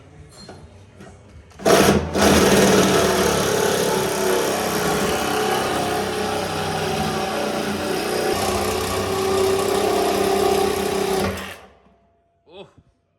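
An outboard motor powering a homemade jet ski starts up with a loud buzzing whine and runs steadily for about ten seconds before cutting off, leaving brief quiet.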